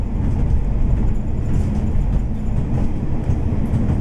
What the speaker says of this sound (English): Rail Class 142 diesel mechanical multiple unit in the provincial blue livery